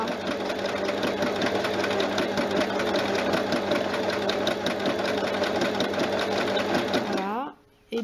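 A Silvercrest sewing machine with an overlock foot stitches fabric in a fast, steady mechanical hum with rhythmic needle clatter, close up, then stops abruptly near the end.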